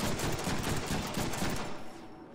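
Rapid automatic gunfire in the Deadpool video game, loud dense bursts of shots rattling continuously for about two seconds before tapering off.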